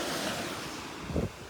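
Surf washes up on the beach at Delnor-Wiggins as a steady wash of noise with wind buffeting the microphone, and one swell of lapping water rises briefly near the end.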